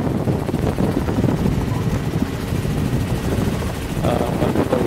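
A helicopter flies low over bare, muddy tidal flats, its rotor and engine roar loud and constant throughout, with a rapid thudding pulse and wind rushing over the microphone.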